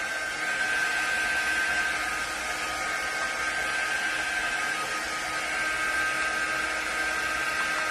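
A warm-air drying tool used for paper crafting blows a focused stream of air, a steady close whooshing roar with a faint whine that holds unchanged throughout, with no talking.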